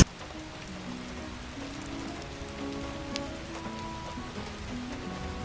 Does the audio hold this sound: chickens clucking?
no